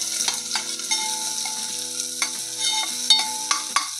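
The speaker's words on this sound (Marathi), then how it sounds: "याच्यामध्येच कांदा टाकायचा आहे" Chopped onion sizzles and crackles in hot ghee with cloves and black pepper, with steady frying and intermittent stirring scrapes and clinks close by, no voices.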